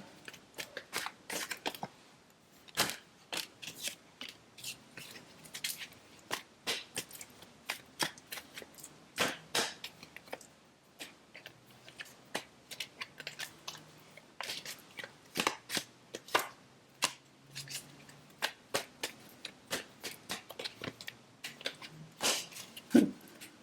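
Tarot cards are shuffled and handled in a long run of quick sharp flicks and riffles, close and fairly crisp, with occasional quiet pauses and no talking.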